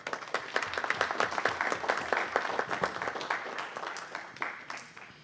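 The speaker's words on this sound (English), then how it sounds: "Please give me a round of applause." A council-meeting audience applauds with dense, sustained clapping that stays steady and fairly close before thinning slightly at the end.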